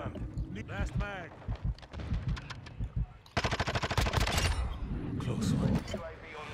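Automatic gunfire in Call of Duty, loud rapid bursts of shots that start abruptly partway through, following a stretch of talk and game sounds, with voices continuing around the firing.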